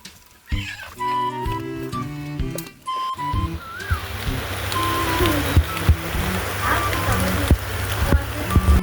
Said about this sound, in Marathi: हे मम्मी पाऊस आला